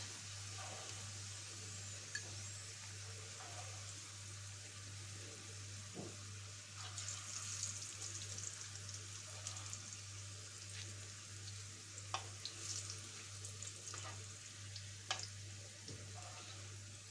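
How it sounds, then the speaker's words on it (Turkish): Prickly zucchini slices frying in oil in a pan, a soft continuous sizzle with scattered pops and occasional clicks of utensils, faint and close, with a steady low hum underneath and no talking. "Kızartma işlemine devam ediyoruz."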